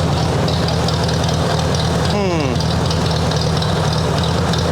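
1958 Ford 851 tractor engine idling with a loud, steady low throb throughout, joined briefly by a short rising whine, and a voice speaking over it.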